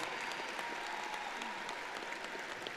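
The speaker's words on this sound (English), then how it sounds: "Give your parents and your guardians a round of applause for rocking it with y'all all your life." Graduates at a commencement clapping for their parents and guardians, an even, fairly soft roar of many hands with scattered sharper claps standing out.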